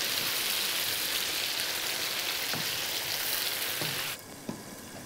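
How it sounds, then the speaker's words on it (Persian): Tomatoes frying in a pan for a chicken rice dish, a steady loud dense sizzle with a few utensil clinks, dropping suddenly quieter near the end. "باز میکساریم که بادنجان رومی هم خوب سرخ شود."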